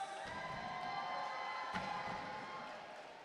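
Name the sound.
crowd cheering at timbersports chopping event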